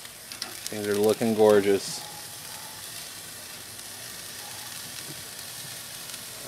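Lamb chops sizzle on a Grill Dome kamado grill with a steady, even hiss of frying. A brief spoken remark rises over it near the start.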